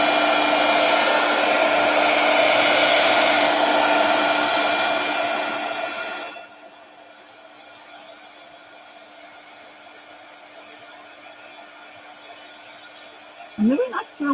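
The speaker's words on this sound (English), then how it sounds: "I'm going to hit this with my dryer." A handheld hair dryer blows on wet paint along book page edges, a loud, steady, close whoosh for about six seconds before it shuts off, leaving a quiet room with a brief knock near the end.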